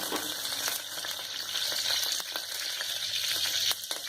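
Dry red chillies, curry leaves and green chilli fry in hot oil for mutton keema, giving a loud, steady close sizzle with scattered crackles and pops throughout.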